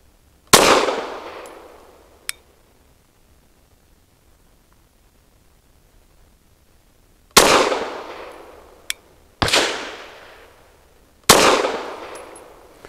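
Four sharp subsonic rifle shots from a Caracal Enhanced F firing light SMB 140 grain subsonic loads, each a crisp crack with a short decaying tail; one shot stands alone, then three follow in quicker succession.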